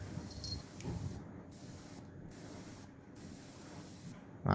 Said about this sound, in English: Right, we're getting something out of the airbrush